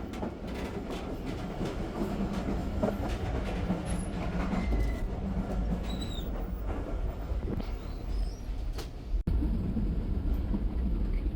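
An air-conditioned passenger train rolls along the rails between Rohri and Hyderabad, with a steady low rumble and rattle of the carriage and faint wheel squeals throughout. There is a brief dip near the end, and no one speaks.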